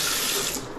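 A hotel bathroom sink tap in a luxury hotel in Goa runs at full force, a steady loud broadband hiss of pouring water filling the whole short moment with no voices.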